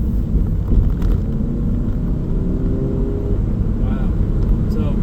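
A Volkswagen Transporter Sportline 2.0 BiTDI van with a DSG gearbox accelerates on the road, giving a loud, steady low engine rumble and road drone from inside the cabin, with a voice faintly present.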